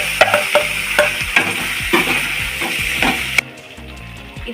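Chopped banana stem tossed and stirred in a frying pan with oil, dried chillies and curry leaves, making loud, close sizzling with repeated scraping strokes of the spatula before the sizzle softens near the end.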